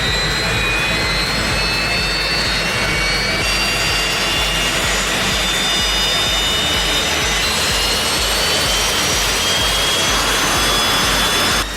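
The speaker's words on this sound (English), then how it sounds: "the jet engine roars to life, with compressed air whistling, culminating in a powerful explosion of sound" A turbojet engine starting up roars steadily and loudly, with high whistling tones over a dense, powerful rush that holds for the whole stretch.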